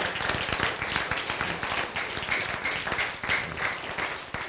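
Audience applause fills a lecture hall during a Korean talk on the Bible and science, steady dense clapping sustained throughout without pauses.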